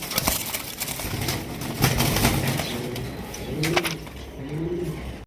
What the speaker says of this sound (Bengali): ওরে মার্শাল্লাহ কত সুন্দর ডাক দেখছেন ডাকের কি স্টাইল